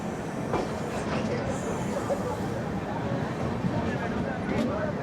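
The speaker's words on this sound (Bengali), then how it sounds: "আমাদের এই ট্রেন দাঁড় করিয়ে দেখো এদিক দিয়ে অমৃতসর মেল পাস করানো হচ্ছে" The Amritsar Mail rolls past on the adjacent track beside a halted train, a steady close rumble with faint clatter of wheels, voices murmuring underneath.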